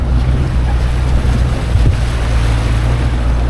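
A jeep fords a deep river in Boac, Marinduque, producing a steady loud wash of churning water and rumbling engine noise with heavy wind buffeting, continuous and close, with no talking.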